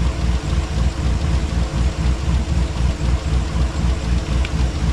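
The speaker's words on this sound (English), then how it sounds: "So the engine's up to temp, and as you can hear, it got a little quieter." A truck engine idles at operating temperature after warming up, a steady, loud, low rumble with even rhythmic pulsing throughout and no talk.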